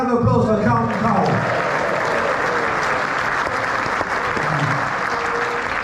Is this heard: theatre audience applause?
yes